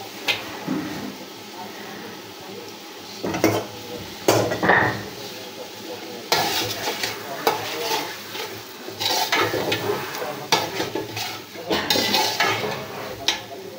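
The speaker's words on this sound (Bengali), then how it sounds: "মাংসগুলো খুব ভালোভাবে নেড়েচেড়ে মশলার সাথে এভাবে মিশিয়ে নিতে হবে" Washed beef is turned into fried spice paste in a pot in a village kitchen. A spoon clanks and scrapes against the metal in irregular bursts, with quieter stretches between the stirring strokes.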